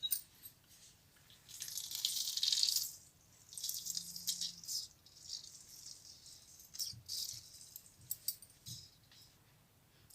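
Water is splashed into fish 65 masala with ginger-garlic paste and lemon juice, a short hissing pour near the mic followed by faint clinks and scraping as it is mixed in a quiet kitchen.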